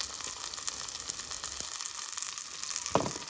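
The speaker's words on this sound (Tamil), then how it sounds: "வெங்காயம் வதங்கிட்டுது." Onions fry in a pan over a kerosene stove, giving a steady, soft sizzle and crackle with a louder stir or pop near the end.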